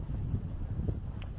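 Wind buffets the microphone outdoors on a cold, sleety day, a low rumbling gusty roar that stays steady and close throughout the short moment.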